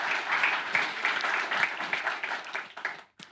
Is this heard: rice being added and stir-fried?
no